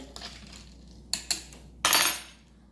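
A spoon stirs a mojito in a glass, giving a few sharp, close clinks spaced apart, then a brighter, longer rattle of metal against glass near the end.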